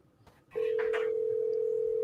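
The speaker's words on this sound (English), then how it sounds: "Let's try calling him back" Telephone call going out while dialing back, a steady tone sounding clearly after a brief soft shuffle, holding evenly to the end.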